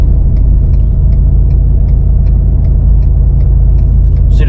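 A pickup truck towing a dump trailer rolls along the road at about 35 mph, giving a loud, steady engine and tire rumble with faint rhythmic rattles or ticks from the trailer, close and continuous.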